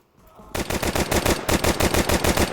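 Rapid automatic gunfire in the video game Counter-Strike 2, a loud, dense burst of evenly spaced shots rattling continuously after a brief quiet start.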